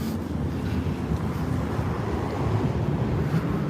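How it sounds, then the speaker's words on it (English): A big, noisy airplane passes overhead as a steady, broad low roar that stays loud and constant throughout, with no voices. "Big, noisy plane."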